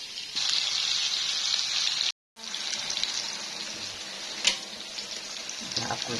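Floured batter frying in hot oil, a steady bright sizzle that runs continuously apart from a brief cut, with a small clink partway through.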